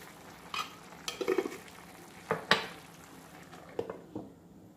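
Mallow, eggplant and potatoes frying in oil in a pan for a traditional Algerian vegetable khalota, with soft sizzling under a scattering of sharp scrapes and clinks as a utensil stirs them.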